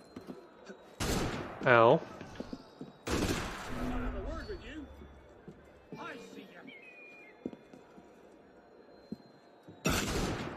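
Enemy gunfire in the game Assassin's Creed Unity: three loud, isolated shots several seconds apart amid quieter game noise and footsteps, with a voice crying out in pain.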